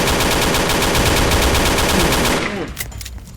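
Rapid automatic gunfire from the Roblox game War Age Tycoon, a loud, close burst of sustained machine-gun fire lasting over two seconds, then cutting off into fading echoes and scattered shots.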